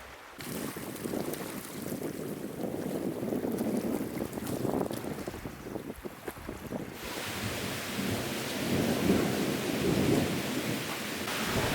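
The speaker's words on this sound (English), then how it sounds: "At the night, however, there are often violent thunderstorms with lightning that brighten the entire area." A violent nighttime thunderstorm rolls on near a beach, with low rumbling thunder under a steady wash of heavy rain and gusting wind buffeting the microphone.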